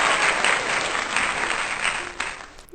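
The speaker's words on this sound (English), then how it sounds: "I'm waiting for the applause to go down." Sustained applause from a podcast audience, a thick wash of many hands clapping that stays strong and even, then thins toward the end with a few scattered claps.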